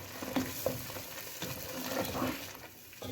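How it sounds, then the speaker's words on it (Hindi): Tomato puree stirred into butter chicken in a pan, giving a steady close sizzle with soft scraping and stirring movements across a few seconds, no talk. "और ये ऐड करने के बाद भी हम इसे अच्छी तरह से मिक्स कर लेंगे।"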